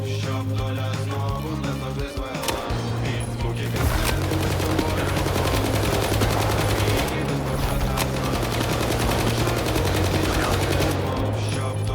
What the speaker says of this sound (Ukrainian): Екіпіруємо кулемет і йдемо тестувати його на тих самих кровососах.